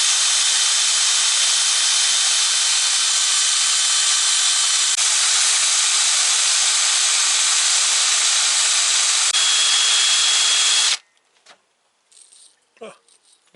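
A wire wheel scrubs crud off an old Abingdon King Dick wrench, a loud steady grinding hiss lasting about eleven seconds before stopping abruptly, followed by faint handling clatter.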